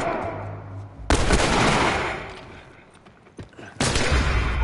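Gunfire from the video game The Last of Us: two loud broadband bursts of shots, each sustained for a few seconds and separated by a lull with a single smaller crack, with no talk over them.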